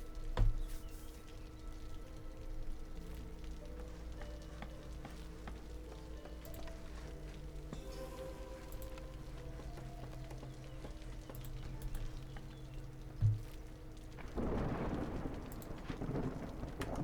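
A storm in the video game Against the Storm: steady rain hisses under in-game music, a single thunder crack lands near the end, and a heavier downpour swells over the final few seconds, with no speech.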